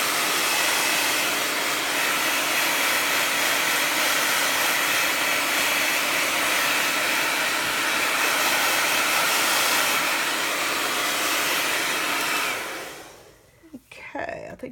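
A hair dryer blows steadily on junk journal pages, a loud continuous broadband whoosh that runs unbroken for about twelve seconds before cutting off and leaving a few faint handling sounds.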